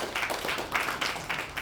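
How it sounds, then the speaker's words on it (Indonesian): A church congregation at a Sunday worship service claps together in a brief burst of applause, a dense pattering of many hands that rises and falls slightly. "Tepuk tangan sekali lagi"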